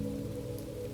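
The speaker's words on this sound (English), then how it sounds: "He could have closed his eyes and let the rain sing him to sleep." Rain falls steadily on a forest floor, a constant close patter with no breaks.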